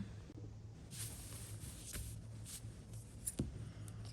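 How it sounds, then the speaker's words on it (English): Fabric scissors snipping through cloth along a cutting line, a quiet, close series of soft, irregular cuts and rustles over low room hum, with no talk. "let's get my fabric scissors and cut it out"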